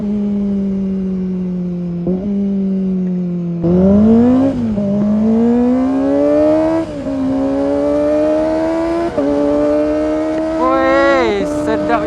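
A Kawasaki ZX25R motorcycle rides close and loud, its high-revving four-cylinder whine climbing steadily in pitch through several gear changes, each marked by a brief dip before it rises again.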